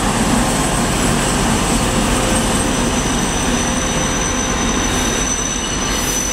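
A train rumbles loudly close by at night, with a steady metallic drone and high wheel squeal as the carriages roll in.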